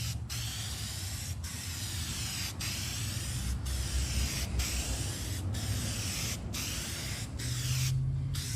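Guide coat sprayed from a can onto a truck body panel during auto body work, a steady close hiss broken by about nine short, evenly spaced pauses, with a low hum underneath.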